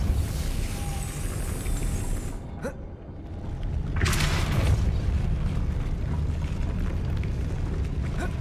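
Depulso force spell cast in the video game Hogwarts Legacy: a single whooshing blast bursts out about midway, then settles into a sustained rushing roar over a steady rumbling game background, with no talking.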